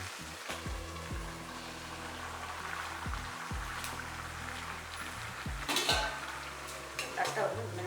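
Mutton dum biryani rice mixed in a pot with coconut milk, a spoon scraping and clanking against the metal in irregular strokes over a faint simmering hiss, without speech.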